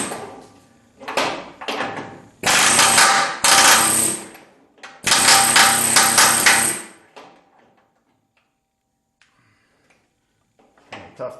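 Hammer blows pound a bolt through the trailing arm of a 1976 Corvette, coming in loud, close metallic bursts, some quick single strikes and two longer clusters of rapid hits, followed by near silence and a faint tap.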